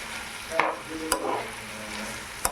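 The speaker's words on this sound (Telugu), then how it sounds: "ఆ ప్రాన్స్ని బాగా ఫ్రై చేయండి కలిసేలాగా." Boiled prawns frying in masala in a pan, a constant close sizzle broken by a few sharp spatula clicks and stirring scrapes, with no talking.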